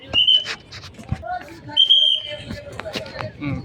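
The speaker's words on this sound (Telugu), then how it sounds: "అన్న విజిల్ వేస్తూ ఉన్నాడు, తీయొద్దు అని" A man blows a whistle aboard the INS Kursura submarine in Visakhapatnam, giving two short, shrill blasts amid crowd chatter and nearby voices.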